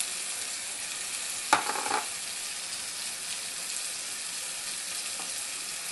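Asafoetida dropped into hot oil, giving a short burst of sizzling and crackling over a steady broadband hiss, then settling back to a quieter continuous fry with no talking.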